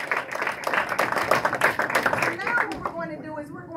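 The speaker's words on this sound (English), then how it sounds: "Let's give Seth a round of applause." An audience at a talk on sexual consent claps in a short burst that thins out toward the end, with voices mixed in under the clapping.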